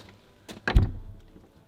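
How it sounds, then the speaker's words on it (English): A door is forced shut with effort: a brief scrape and shuffle build into one solid thud, then a short rattling decay, close and fairly loud in a quiet room. "Why do I have such a hard time closing this door?"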